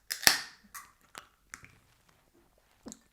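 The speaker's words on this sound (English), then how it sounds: "let's get this cracked, poured into the glass" A bottle of smoked Rauchbier lager from Wayfinder Beer Co. is cracked open with a sharp hiss, followed by a few short clinks and a brief pour into a glass, all fairly close and with no talk.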